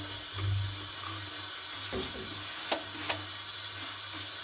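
Water runs steadily from a tap while paint stripper is rinsed off, a continuous hiss and splash with a few brief clinks and taps partway through, fairly close and moderate in level.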